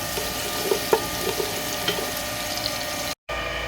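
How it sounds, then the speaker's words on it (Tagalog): Garlic fries in a pan for goto, a continuous close hiss of sizzling oil broken by light stirring taps and small pops, with a brief cut to silence near the end. "Susunod naman natin ipiprito ay ang ating uh, garlic."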